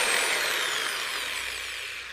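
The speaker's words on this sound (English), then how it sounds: "put it into a 1/2 inch drill. Now you got your electric starter" A half-inch power drill whines steadily at high pitch, cranking a Honda E1500 generator engine, its motor spinning continuously and loudly close by with a slight drop in speed toward the end.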